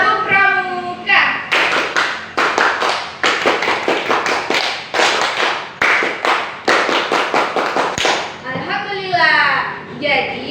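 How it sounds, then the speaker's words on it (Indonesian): Children at an elementary school class perform the scout rhythmic clap (tepuk pramuka) together, loud sharp claps in a patterned group rhythm with short pauses between bursts, and brief voices at the start and end. "Tepuk pramuka."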